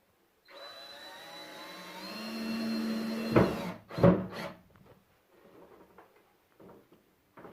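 A power drill whirs up and drives a screw into wood for about three seconds, then two short bursts as it finishes; quiet shuffling follows.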